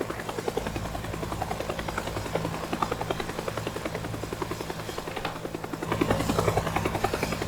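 A video game helicopter's rotor chops in a rapid, steady rhythm with an engine whine, continuous and fairly loud, growing slightly stronger toward the end.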